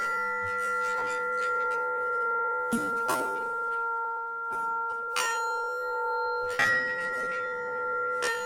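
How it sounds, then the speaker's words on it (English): A bell rings in a workshop where Caterpillar RD-6 sprockets are being pulled under 30 tons of press force, producing a sustained ringing tone with several sharp metallic strikes and clangs that keep the ring going. "Ring the bell, it works every time."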